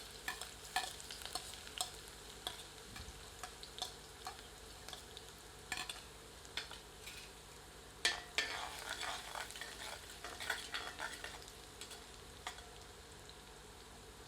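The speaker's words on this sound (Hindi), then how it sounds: "गर्म तेल में लहसुन को डालते हैं और कुछ क्षण" Garlic frying in hot mustard oil in a pan, a soft steady sizzle with intermittent stirring scrapes and clicks, faint and close with no talk.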